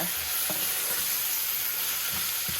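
Garlic and ginger fry in hot oil for an egg curry, a steady moderate sizzle with a few soft clanks and stirring knocks of a utensil against the pan.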